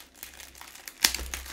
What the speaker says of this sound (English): put all these books in this plastic bag